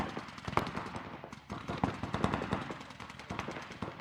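A paintball gun fires rapid bursts at a bunker during a one-on-one paintball match: a quick, close string of sharp pops with short pauses between volleys, no talking.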